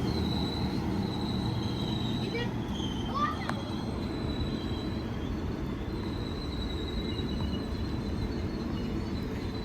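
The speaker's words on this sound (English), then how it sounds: "Train now departing is 195 going to Leeds." A Class 195 train at Rochdale station grinds along with high wheel squeals rising and fading. Platform rumble runs steadily underneath and voices are faintly audible nearby.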